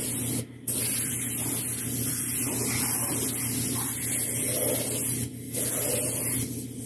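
An airbrush sprays paint onto a quarter-scale custom Thor sculpture, giving a continuous close hiss with a low compressor hum beneath, broken by two brief pauses where the trigger is released.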